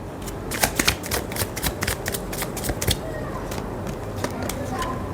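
Romance and Love Oracle cards shuffled close by, a flurry of quick papery slaps in an irregular burst that thins out toward the end, while a voice talks alongside.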